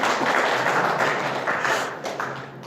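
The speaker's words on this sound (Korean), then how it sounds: "옳다고 생각하면 박수 한번 쳐주시기 바랍니다" Audience applause at a church service, a steady broad wash of many hands clapping that continues throughout and tapers slightly toward the end.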